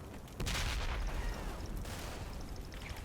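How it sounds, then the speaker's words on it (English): Grenade explosions and gunfire from the Combat Mission video game, a muffled boom and rumbling crackle of distant battle with scattered shots, moderately loud and continuous. "everybody's throwing grenades at each other"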